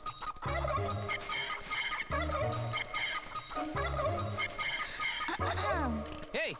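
A chicken flaps and clucks loudly, repeated squawking bursts close by, in a comedy film scene.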